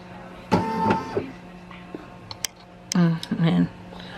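A Brother PE800 embroidery machine tracing a design outline gives short bursts of motor whir and stepping ticks, near and distinct, with quiet pauses and small clicks between movements.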